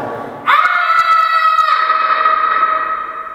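A person lets out a long, loud, sustained scream inside a reverberation room, the sound ringing on and fading slowly as the reflective walls carry it.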